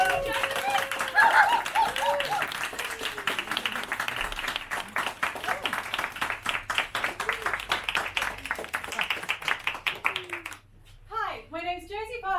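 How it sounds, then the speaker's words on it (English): Loud, dense audience applause fills a comedy-style stage show, steady clapping with scattered cheers for several seconds before it fades and a single voice begins speaking near the end. "a huge round of applause for Josie Parkinson"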